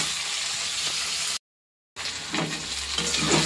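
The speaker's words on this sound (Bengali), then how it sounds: "একটু হলুদ দিয়ে ভেজে নিই কলাটা।" Banana pieces frying with turmeric in a pan give a loud, steady hissing sizzle that cuts out briefly, then returns with stirring clatter.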